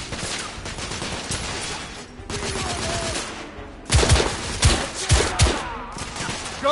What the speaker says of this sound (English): We need cover fire!